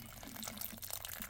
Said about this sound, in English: So we're going to water our transplanted basil